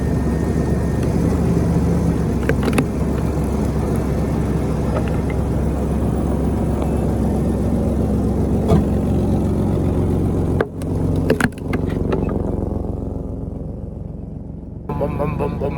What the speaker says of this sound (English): Could probably use a new muffler, but like I said, it gets quieter once it gets warmed up